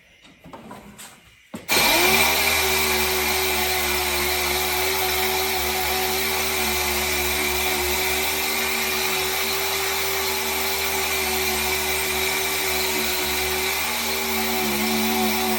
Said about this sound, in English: It's going to get loud in the video because you're right by the compressor.